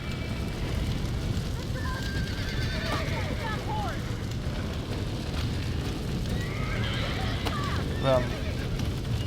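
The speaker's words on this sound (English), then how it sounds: "Now get the horses out!" Horses in Red Dead Redemption neigh and whinny twice over rumbling background noise and hoofbeats, with shouting voices mixed in.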